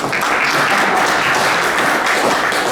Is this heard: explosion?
no